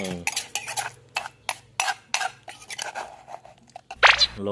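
Food is pounded in a mortar with a pestle: a series of sharp, irregular knocks and clinks close up, some crunching in between, with a brief voice near the end.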